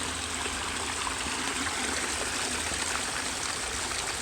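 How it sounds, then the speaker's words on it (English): Buck Run creek, a stream at a trailside camp on the Old Loggers Path, flows steadily with a close, constant rush and trickle of water, unbroken and with no voices. "Decent amount of water flowing through."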